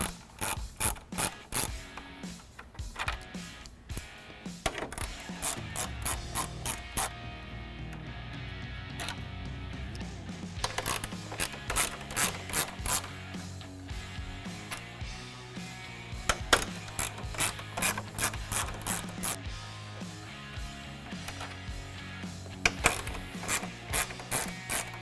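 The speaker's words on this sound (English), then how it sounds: "go ahead and grab your ratchet with a 10mm socket, and we're going to remove these 6 screws going along the front side of the grille" Ratchet with a 10mm socket clicking in rapid bursts while removing the grille screws on a 2020-2021 Ford Super Duty, close and crisp, with short pauses between runs of clicks.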